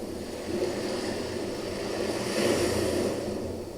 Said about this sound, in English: And then the track ends with just this wave, just ocean sound effects that I found online.